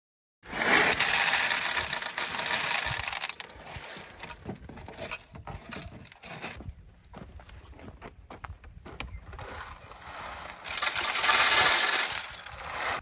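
Seed pockets on a John Deere 7000 sweet corn planter are filled, with a steady hiss of rushing seed alongside uneven rattling, clicking and crunching mechanical noise, loud at the start and end and quieter in between.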